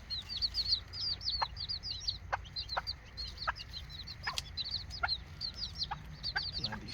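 Serama bantam chickens, including a young pullet, give repeated high chirping clucks and peeps at close range, with occasional sharper clicks amid low background rumble.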